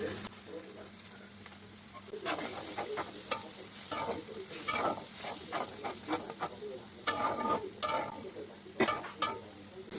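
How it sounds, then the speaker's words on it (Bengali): Jute leaves tossed into a pan with green chillies, onion, salt and turmeric, cooking with a sustained close sizzle, stirring scrapes and sharp utensil knocks over about ten seconds. "এখন শাকগুলো দিয়ে দিচ্ছি।"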